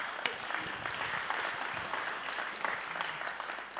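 At a vocational excellence award ceremony an audience applauds, a soft, even rain of clapping from many hands that stays fairly constant throughout at a moderate distance.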